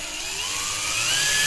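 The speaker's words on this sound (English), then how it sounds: "This drill bit is bent." Electric drill with a bent bit boring into a circuit board, giving a steady high-pitched whirring whine that rises slightly in pitch and loudness, close up and with no voices.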